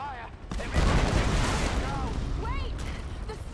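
Gunfire rattles in the Tomb Raider video game as a dense, continuous volley of shots with high whooshing sounds, and voices speak over it.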